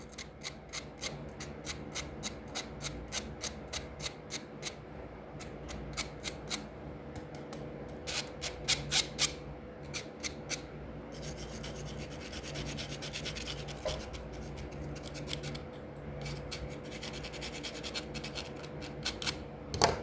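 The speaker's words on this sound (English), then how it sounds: "we're just gonna go ahead and scrape everything off" A knife blade scrapes carbon off a hot spark arrester in quick repeated strokes, a rhythmic run of raspy scratches close up and faint, growing denser and more continuous midway before sharp strokes return.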